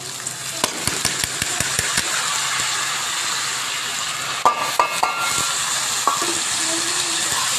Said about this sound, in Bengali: ভাজা হয়ে গেছে এখন চালটা দিয়ে দেবো